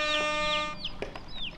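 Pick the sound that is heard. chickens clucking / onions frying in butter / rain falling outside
chickens clucking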